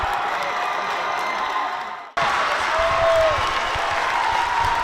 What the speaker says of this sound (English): The fans are going absolutely wild here